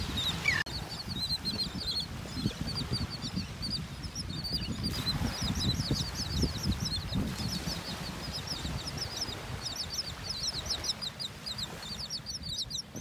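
Birds calling steadily on a beach in North Naples, Florida, a dense chatter of repeated chirps running throughout over a constant low rumble of surf and wind.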